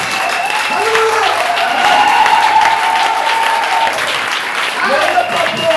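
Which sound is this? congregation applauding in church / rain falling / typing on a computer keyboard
congregation applauding in church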